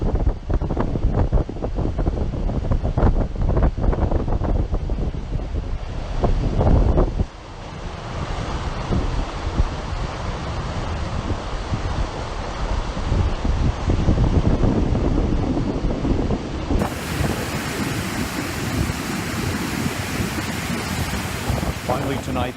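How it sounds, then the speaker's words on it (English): Wind and powerful roaring water at Niagara Falls in autumn form a loud, continuous broadband rush that gusts and shifts in intensity throughout, with no talk. "that sound you hear is a combination of the wind and the water"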